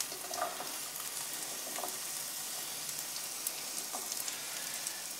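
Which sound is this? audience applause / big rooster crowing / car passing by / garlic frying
garlic frying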